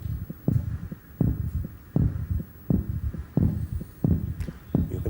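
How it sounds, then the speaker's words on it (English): Heartbeat amplified through a microphone, a steady rhythmic lub-dub of low thumps repeating about every second, close and prominent with a faint hum underneath and no talking. "We're going to listen to his heartbeat through this microphone."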